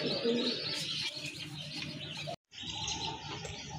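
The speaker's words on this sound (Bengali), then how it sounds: "মাশাল্লাহ আরেক জোড়া কবুতর" Desi pigeons coo and chirp nearby at a pigeon sale, with a brief flutter of wings and a momentary dropout midway; no talking.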